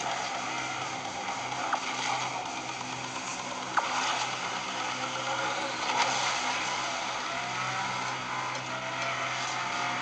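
Race cars in the Asphalt 9 Legends video game, engines droning continuously with tire skids and a few sharp clicks or impacts, steady and moderately quiet, no talking.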